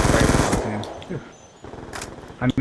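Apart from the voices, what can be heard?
Scorpion gun rapid fire in Black Ops 2 video game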